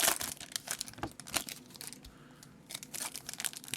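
Foil packs of 2023 Topps Series 1 baseball trading cards torn open by hand, a dense, close run of crinkling and ripping bursts with a short lull in the middle, and no speech.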